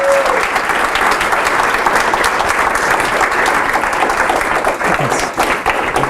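Audience applause after a last lecture by Dr. Phelps, a dense, steady wash of many hands clapping throughout, loud and sustained with no break.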